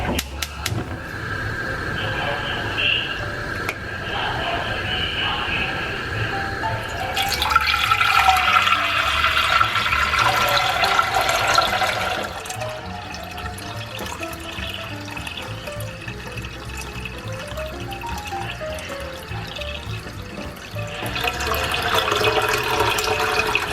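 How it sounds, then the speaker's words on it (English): Tap water running steadily into a medium-sized pot, filling it about three-quarters full, a continuous close splashing rush that swells louder for a few seconds midway, with no voices. "we're going to take a medium-sized pot and fill it about 3/4 of the way full with water"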